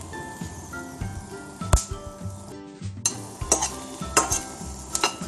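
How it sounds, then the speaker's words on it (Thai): Banana peppers, fresh chilies, garlic and shallots dry-roasting in a pan without oil: irregular scraping and clinking of a utensil against the pan over a soft, steady sizzle, close by. "ก็คั่วพริกนะคะ พริกหยวก แล้วก็พริกสด กระเทียม หอมนะคะ"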